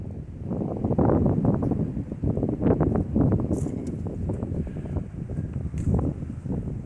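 Strong, cold wind gusts across a microphone outdoors at a disc golf field, a steady low buffeting roar that swells and dips for several seconds with no voices.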